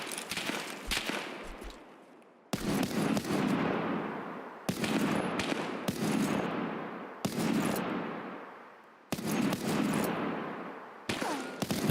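Gunfire in Escape From Tarkov comes as a series of loud bursts and volleys, each cracking sharply and then rolling off in a long echoing tail, repeating about every two seconds.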